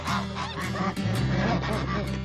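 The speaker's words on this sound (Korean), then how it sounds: "곧바로 다른 거위들의 단체 공격이 시작된다" Several geese honk loudly and repeatedly at close range while ganging up on a hen, the harsh overlapping honks coming in quick bursts over flapping and scuffling.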